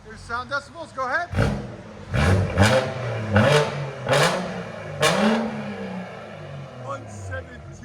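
A tuned 2017 BMW 540i with a 3.0L inline-six, downpipes and a straight-pipe exhaust with the muffler and resonator removed. It revs repeatedly in loud, close, raspy blips that rise and fall in quick succession, followed by a lower rumbling idle.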